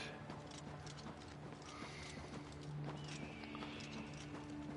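Steady horse hoofbeats clop along continuously at a quick gallop in Oblivion, fairly quiet, with faint ambient game sounds and no talking.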